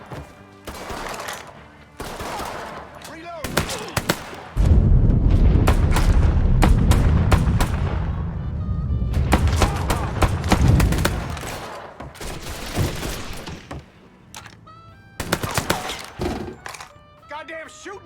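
Loud bursts of gunfire, single cracks and rapid volleys with heavy booms, from the video game Mafia 3 Definitive Edition, coming in clustered waves separated by brief lulls.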